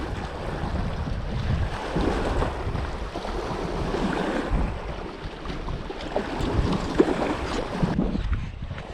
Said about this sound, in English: Just to get out of this wind a little bit.